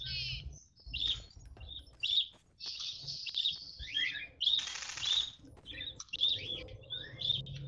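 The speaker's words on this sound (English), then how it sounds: "Oh, shut up! Birds, please." Birds chirp and tweet repeatedly in a Prop Hunt video game, bright overlapping calls sounding close and fairly loud across the whole stretch, with a burst of dense chatter midway and soft background noise beneath.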